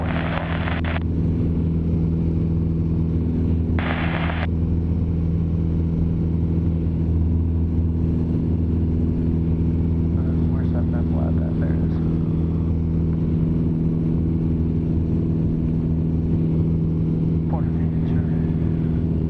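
A Cessna light aircraft's engine drones steadily as it departs runway 12, a constant low hum that runs the whole time with voices talking over it.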